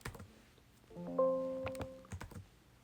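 Short burst of computer keyboard keystrokes as a password is entered, quiet close clicks in a quick irregular run amid a faint room tone.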